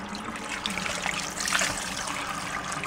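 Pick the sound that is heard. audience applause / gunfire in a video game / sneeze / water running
water running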